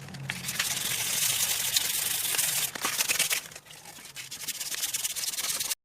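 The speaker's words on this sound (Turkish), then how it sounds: "ince yani kaba zımparasını yaptık" Coarse abrasive scraping of sandpaper on a metal bicycle frame, a steady gritty rasp that briefly drops off midway, then resumes close by.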